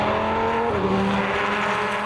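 A 2013 SRT Viper GTS-R race car roars past at high speed during time trials, its engine note loud and steady with a dropping pitch as it sweeps by.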